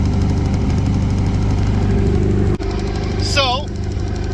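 Vintage speed boat engine running wide open with a possible cable adjustment issue, a loud steady droning roar with rhythmic low pulsing, close and continuous, with a brief thump and a short whistling chirp near the end.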